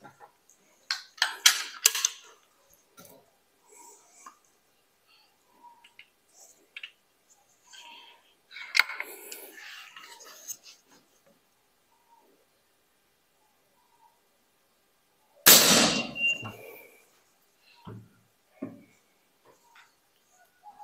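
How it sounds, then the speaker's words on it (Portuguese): A 4.5mm PCP air rifle fires a few quiet shots through a chronograph, each a short sharp burst, with one louder crack standing out amid scattered clicks and handling noises. "E vamos fazer aqui um pequeno disparo. Super silenciosa, ok?"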